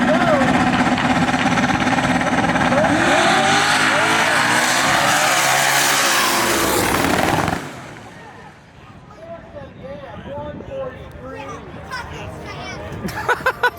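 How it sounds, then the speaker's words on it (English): Drag race at a street car event, a Bullet WS6 against a single-turbo LS240, with loud roaring engines close by for the first half that cut off sharply, leaving crowd chatter and distant engine noise while people talk. "So we got the Bullet WS6 versus the single turbo LS240."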